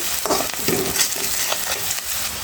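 Onions sautéing in a pan for a tilapia and tomato dish give a loud, steady sizzle, broken by regular stirring scrapes, close to the listener.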